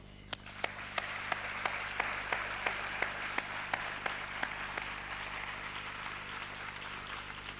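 Audience applause at an event on the world of mystery, a light, fairly distant patter of clapping that runs steadily with a few sharper individual claps, holding through to the end with no voices.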